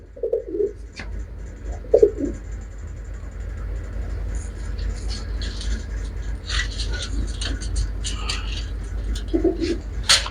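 Pigeons kept by a pigeon fancier coo in a few short, low bursts near the start, around two seconds and near the end, over a steady background rumble and faint scattered noises.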